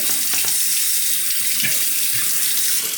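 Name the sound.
running water from tap while honing a razor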